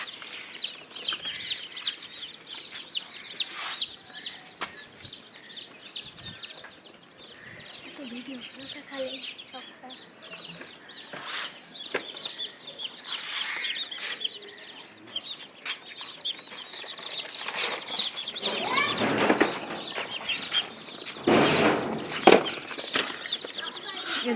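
Chickens cluck and squawk repeatedly nearby, with bursts of wing flapping and scattered rustling; the activity grows busier toward the end.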